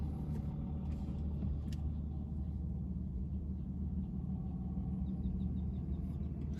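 A car or truck with a loud engine rumbles steadily nearby, a low continuous drone holding throughout as it drives past or idles, with no talk over it.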